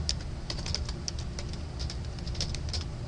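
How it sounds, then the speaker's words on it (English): Fingers tap steadily on a computer keyboard while names are entered, a quick irregular patter of clicks heard close up over a low room hum. "we'll take a moment and type in the people"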